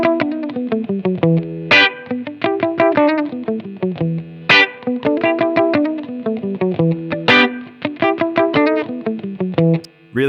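Electric guitar through a Blackstar Amped 2 amplifier and FX pedal plays a lively run of notes with a boosted, slightly gritty tone, steady and loud with short pauses between phrases.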